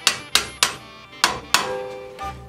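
Metal hammer strikes on a blade edge laid on an anvil: five sharp, ringing blows at an uneven pace, then a softer sixth tap, close and loud with no talking.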